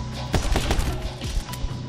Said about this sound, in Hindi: देखो अभी यहां से मैं उछालूंगा पैन और मारूंगा पैन पे गोलियां